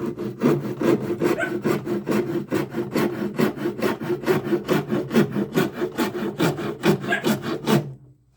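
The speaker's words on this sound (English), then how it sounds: "You can almost remove more with this rasp than you can with a belt sander." An old-school hand rasp shapes wood in quick, steady back-and-forth strokes, about three per second, with a close, coarse scraping that stops abruptly at the end.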